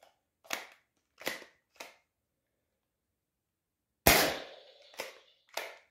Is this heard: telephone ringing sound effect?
no